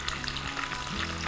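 Paneer shallow frying in a little oil sizzles steadily, a close, continuous crackle through the short moment.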